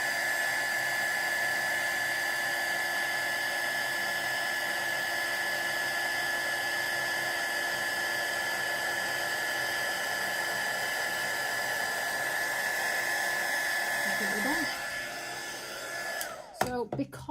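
Heat tool blowing steadily to set embossing powder on papercraft card, a constant whining hum of moderate level that cuts off with a few clicks and handling sounds at the end.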